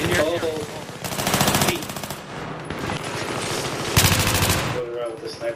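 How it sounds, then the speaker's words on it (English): A hostile machine gunner fires in a video game: rapid, rattling bursts of automatic gunfire, two heavy volleys around one and four seconds, amid a steady din of battle noise. "I spotted a hostile machine gunner in here."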